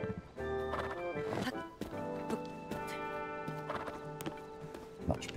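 A horse in the video game Zelda Tears of the Kingdom, with rhythmic clip-clopping hooves and a short whinny over soft game music, fairly quiet and close.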